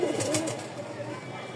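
Pigeons of a show-quality breeding pair coo softly and repeatedly at close range, blending into low background noise with no clear speech.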